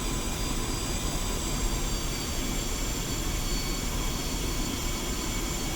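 Su-25T jet taxiing toward the runway in Digital Combat Simulator, a steady broadband engine roar with a high whine running unbroken at constant loudness throughout, with no voices.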